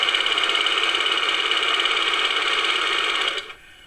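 A serger overlock sewing machine running a chaining stitch with no fabric, giving a steady, fast mechanical whir and buzz up close that runs alone for about three seconds before winding down.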